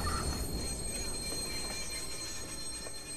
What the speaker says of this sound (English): hack into the L train and go get on the train